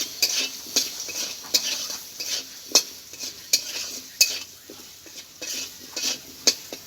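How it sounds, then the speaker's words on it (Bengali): Chandramukhi potatoes frying in oil are stirred in the pan, with a steady sizzle and sharp, regular clinks of a utensil striking the pan throughout. No one speaks. "আলুটা আমার ভাজা হয়ে গেছে, তুলে নিচ্ছি।"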